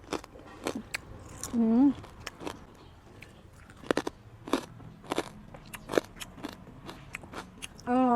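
Crispy pork rind chili dip being eaten, with sharp crunchy bites and crackles scattered throughout, close to the mic, plus a brief hum and murmured voice.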